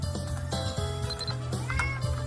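Cartoonish cat meow from the online role-playing game Mabinogi, short and mid-pitched, heard over steady in-game background music.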